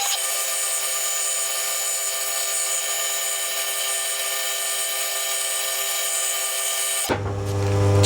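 A lathe parts off a metal workpiece, giving a steady, loud, tonal whine with a high ringing edge that holds evenly for about seven seconds, then changes abruptly as the cut finishes.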